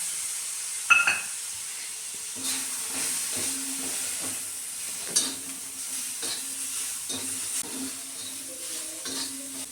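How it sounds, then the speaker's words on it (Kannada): Bitter gourd pieces fry on a hot tawa with a splash of tamarind juice, giving a steady close sizzle broken by repeated scraping stirs of a spatula, with no talking. "ಇದನ್ನು ಕ್ಲೀನಾಗಿ ಒಂದು 5 ನಿಮಿಷ ಫ್ರೈ ಮಾಡಿದರೆ ಮುಗೀತು"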